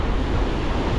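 Waves wash steadily onto a beach on the Gulf of Siam in Thailand, a dense, continuous roar of surf mixed with wind buffeting the microphone, with no voices.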